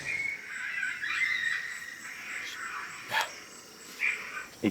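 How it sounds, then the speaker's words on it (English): A coyote lets out a warning bark-howl from across an open field during a predator hunt. The wavering, yipping cries are distant and moderately loud, with a few sharper bursts near the end. "He was given a warning bark howl."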